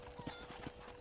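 Rhythmic clip-clop of horse hooves at a riding pace in the western video game Red Dead Redemption, close and steady with a faint whinny-like tone, heard alone without talk.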